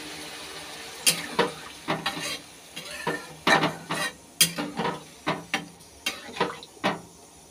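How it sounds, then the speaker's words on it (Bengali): Water goes into a pan of fried potatoes, and close, uneven clatters and splashy scrapes of stirring follow, with a light sizzle underneath. "এখন জল দিয়ে দিচ্ছি।"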